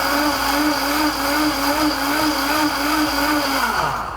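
A blender runs at maximum speed mixing an ice cream base, giving a loud, steady close whir with a high motor whine that begins to wind down at the very end.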